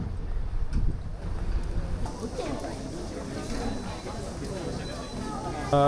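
Wind gusts buffet the microphone by warm water on a trip in Japan, rumbling unevenly beneath the wash of nearby waves, with a person talking over it.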